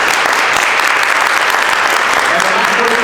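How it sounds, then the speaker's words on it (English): Sustained applause from an audience at a city employee appreciation event, steady and fairly loud throughout with a faint voice toward the end. "Once again, another round of applause."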